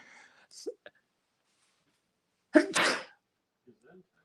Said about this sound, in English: It would not be complete if I did not start sneezing on camera.